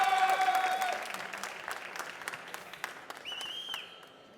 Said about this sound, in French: Tonnerre d'applaudissements pour Marco, s'il vous plaît.